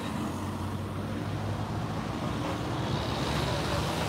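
Heavy traffic congestion on a Mezquital Santa Rosa highway used by trailers, a steady, dense rumble of cars and trucks with no breaks, heard from close by.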